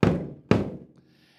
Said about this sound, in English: And then two more basses.